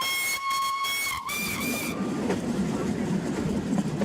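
A shrill steam locomotive whistle blows in a sustained tone for about two seconds on a Douro line, then gives way to the chugging rumble of a moving train.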